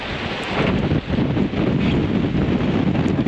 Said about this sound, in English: At least freezing out here with gusts of 45 miles an hour